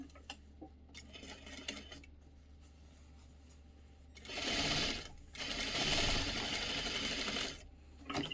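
Sewing machine stitching the skirt lining of an Azazie dress, a couple of seconds of steady rapid whirring after a stretch of light handling clicks, near and clear.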